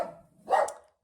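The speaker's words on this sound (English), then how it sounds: "He's just had a bark because you can hear buzzing outside the window" A single dog gives two quick barks close by indoors, beside a living room window with bees buzzing outside, the second bark louder before silence.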